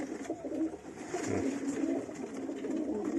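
Young pigeons cooing softly up close, a low murmuring coo over a steady background hum.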